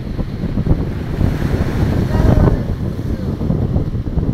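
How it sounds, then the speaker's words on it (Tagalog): Strong typhoon wind buffets the microphone over the steady roar of surf in Navotas, a loud, continuous rushing with gusts swelling midway. "alon, lakas ng hangin."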